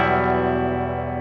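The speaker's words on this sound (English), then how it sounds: "all the distortion that you're hearing is coming from the Dead Horse" Electric guitar distorted by a Dead Horse pedal, played in a djent style: one thick sustained chord rings out evenly and fades slightly over its length.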